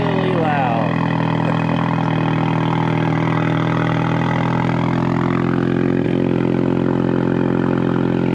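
A Ford 4-cylinder EcoBoost engine with factory exhaust idles loudly after a cold start, a steady, close, throaty drone that holds for about eight seconds, with speech briefly over it.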